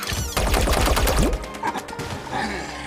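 Gunfire in the Mario + Rabbids Sparks of Hope video game, a loud dense burst of rapid shots in the first second and a half, then fading game effects and ambience without talk.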